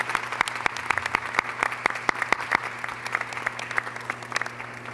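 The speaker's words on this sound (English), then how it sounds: "We can certainly give them a huge round of applause." An audience at a committee meeting applauds steadily, many hands clapping in a dense, continuous patter heard from a moderate distance.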